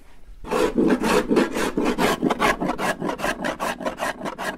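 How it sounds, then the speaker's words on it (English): Hand plane shaving wood at a workbench, a run of about fifteen rhythmic rasping strokes close up and loud, each pass a broad scraping swish that comes faster toward the end, with no talk. "he literally planed the wood here for another 3 minutes"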